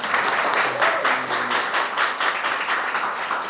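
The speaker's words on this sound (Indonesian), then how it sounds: "Tepuk tangan teman-teman" Classmates in a classroom clap for a student who presented for her group, a dense, lively burst of applause that carries on steadily for a few seconds.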